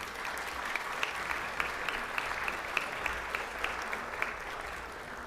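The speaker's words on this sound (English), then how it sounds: "Please give them a round of applause." Applause for the Olivia Mitchell Youth Council in a city council chamber, a steady, moderately distant patter of clapping from the audience with a few sharper claps standing out.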